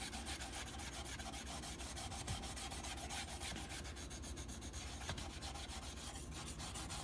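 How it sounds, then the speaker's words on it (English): A carbon steel oil-quenched honyaki Santoku knife is scrubbed with rust remover and kitchen cleanser: steady, close, rapid back-and-forth rubbing strokes continue without pause at a soft level, with no voices. "I use the rust remover for knife, and a little bit kitchen cleanser"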